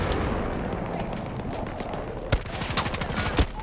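A gun rattles off repeated shots in Battlefield 2042, steady rapid bursts of gunfire with a couple of sharper loud cracks near the end.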